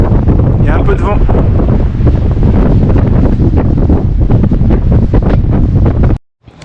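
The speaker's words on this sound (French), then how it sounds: "Il y a un peu de vent." Wind blows hard across the microphone outdoors near Stanley on the Tasmanian coast, a loud rumbling buffeting that fills nearly the whole stretch before cutting off abruptly near the end.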